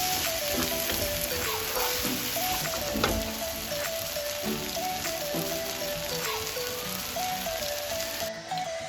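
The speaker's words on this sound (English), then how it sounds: "So I'm stirring up everything." Egg sauce sizzles and fries steadily in a pan while being stirred, a dense continuous crackle with a faint tonal hum running underneath, loud and close throughout with no talking.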